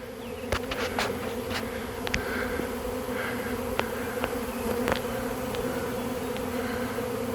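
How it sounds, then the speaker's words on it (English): A large honey bee swarm fills the air with a dense, continuous buzzing drone, with individual bees zipping close past now and then. "This is a big swarm."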